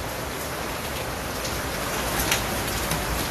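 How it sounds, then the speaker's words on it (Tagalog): Heavy rain pouring steadily outside a house, a loud, dense, unbroken wash of drops with no voices. "medyo malakas yung ulan dito"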